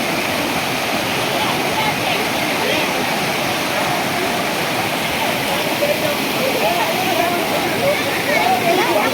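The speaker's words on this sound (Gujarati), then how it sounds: "સાંભળજો ઝરણાનો અવાજ સાંભળજો મિત્રો" A mountain stream rushes as a loud, steady wash of flowing water close by near the Khodiyar Mata shrine at Bharoli, continuous throughout with faint voices underneath.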